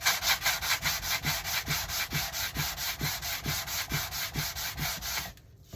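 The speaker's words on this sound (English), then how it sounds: "just hit it with sanding block to sand it smooth" A sanding block rubbed back and forth over wood to smooth it, a steady rhythmic scratching of about a dozen close, even strokes that stop just before the end.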